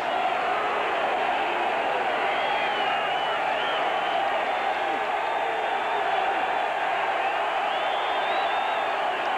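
Stadium crowd at a 1985 college football game between Tennessee and UCLA, a dense, steady roar of many voices filling the air, with whistles and shouts rising through it and no break across the stretch.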